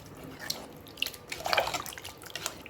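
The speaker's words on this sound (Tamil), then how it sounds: "மேற்கொண்டு அதுக்கு தேவையான அளவு நம்ம தண்ணி சேர்த்துக்குவோம்." Water poured into a pan of chicken kurma being cooked in a pressure cooker, a close, moderate trickling and dripping splash with small bright drops, with no talk.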